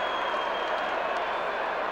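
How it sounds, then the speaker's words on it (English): A big football crowd at the 1995 Grand Final between Port and Central applauds a mark, a steady, loud wash of clapping and cheering that fills the whole moment. "Magnificent crowd appreciate it."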